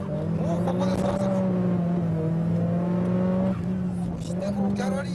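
A drift car revs hard on a mountain pass, shifting up to third and dropping back to second, its engine note droning loud and steady with a brief dip at the shift, and tires faintly squealing.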